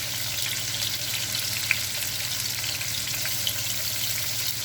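Small cashew chicken pieces fry in a pan with a steady, close sizzle and occasional faint pops, continuous throughout with no voices.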